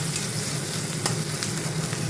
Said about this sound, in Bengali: বরবটি আর আলু ভাজা বসানোর জন্য তেল দিয়ে দিয়েছি কড়ায়, আর এখানে পেঁয়াজ আর লঙ্কা দিয়ে দিচ্ছি